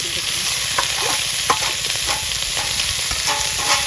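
Figs, potatoes and onions fry together in a pan for a Bengali fig curry, giving a steady, close sizzle broken by light scraping taps of stirring.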